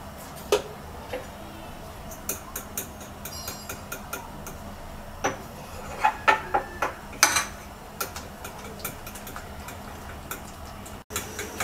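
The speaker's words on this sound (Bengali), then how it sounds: "এই ডিমটার মধ্যে আমরা 3 টেবিল চামচ কর্নফ্লাওয়ার দিয়ে মিক্স করে নিচ্ছি" A single egg mixed with three tablespoons of cornflour and a little salt in a bowl, giving sporadic light clinks and taps of utensil on dish, some quick and clustered, over a quiet background.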